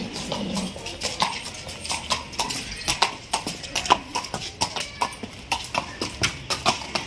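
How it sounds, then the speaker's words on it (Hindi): Hooves of a black Marwari horse clip-clopping as it is ridden, a quick steady run of sharp, close hoofbeats on hard ground, with brief background voices. "चलिए इसकी राइडिंग देख लेंगे"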